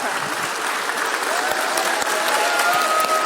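An audience at a presentation event claps for the presenters, dense and loud applause that continues steadily throughout.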